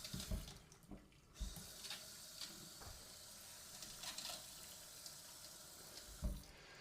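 Water runs steadily from a tap into a sink in a tiny house, with a soft hiss and occasional splashing clunks and no plumbing rattle, fairly quiet and unaccompanied by voices.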